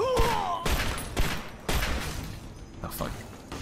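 An automated turret fires in Fallout 3 as loud gunshot bursts strike at irregular intervals, each trailing into a rumbling decay, with a voice heard faintly under the din.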